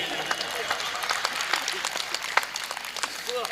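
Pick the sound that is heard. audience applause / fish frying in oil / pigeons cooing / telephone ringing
audience applause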